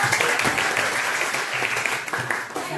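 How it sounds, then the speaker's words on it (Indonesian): A classroom of students applauds together, a dense, brisk burst of clapping heard up close, steady for a few seconds before tapering, with faint voices underneath. "Tepuk tangan dulu."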